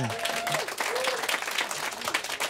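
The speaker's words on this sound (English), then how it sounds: "Give him a round of applause for that." Studio applause at a radio station interview, a dense steady wash of clapping filling the whole stretch, with a voice briefly audible underneath.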